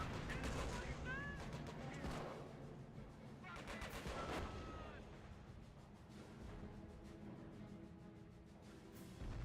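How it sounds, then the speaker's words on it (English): Mortar and gun fire in a war video game, several sharp reports and rattling bursts scattered over a steady battlefield rumble, fairly close and loud at times. "I've got mortars firing."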